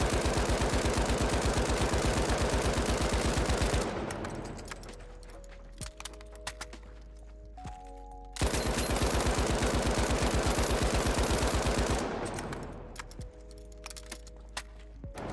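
A Lewis gun fires in the video game The Finals in two long, loud, rapid automatic bursts of about four seconds each. Each burst is followed by a few seconds of clinking, ringing mechanical tails.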